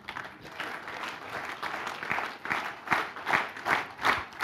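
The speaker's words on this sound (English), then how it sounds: "I want you to start clapping, but I want you to clap in unison." A master-class audience claps, at first as a scattered patter that gradually locks into a unison rhythm of sharp, evenly spaced claps, growing louder toward the end.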